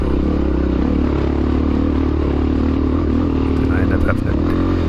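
A 1993 Honda XR600R climbs a long, rough hill in second gear during a cross-country race at Cub Mountain, its engine droning loud and steady at close range with rattling and clattering from the terrain.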